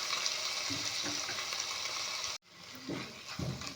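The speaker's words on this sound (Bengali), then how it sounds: "চিকেনগুলো এবার আমি ভালো করে ফ্রাই করে নেব" Continuous hissing sizzle of chicken frying in hot oil, briefly cut off, then resuming with light stirring scrapes.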